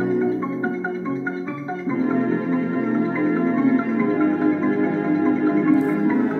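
The theme is played on an old home keyboard as a quick run of repeating notes, with a steadier layered tone from about two seconds onward. It sounds fairly loud and close, with no talking.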